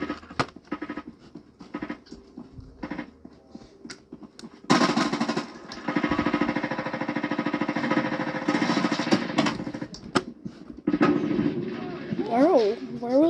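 Gunfire in the video game Frontlines comes in rapid, dense bursts that start and stop, loud and near, with sparse single shots scattered between the volleys.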